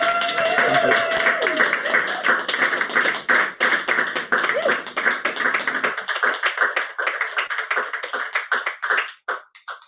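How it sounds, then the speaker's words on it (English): An audience at a poetry evening applauds a poet with bright, close clapping that starts dense and thins into scattered individual claps before fading out. "Can we have a big round of applause, please, for Dmytro Lazutkin?"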